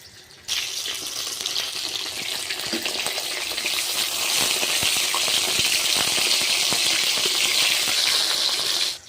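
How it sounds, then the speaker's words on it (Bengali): Rohu fish sizzle in oil over a medium flame, a dense close crackle that starts suddenly and grows slightly louder, with fine popping spatters throughout. "এখন আমি মাছগুলো পুরো মিডিয়াম আঁচ দিয়ে ভাজবো"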